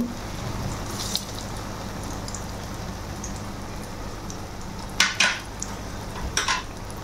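Lentil mixture being stirred and fried in a pot, a low steady sizzle with a few sharp metallic clinks of spoon against pan near the end.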